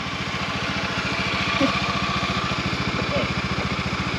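A motorbike engine runs steadily with a regular low throbbing pulse, close and continuous, in a rundown rental setting on the Si Phan Don islands in Laos, with a brief faint voice over it.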